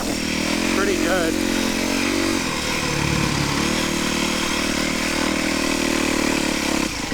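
A motorcycle engine running while riding, a steady droning buzz with a brief dip and rev change midway, continuous and close, with a person talking over it.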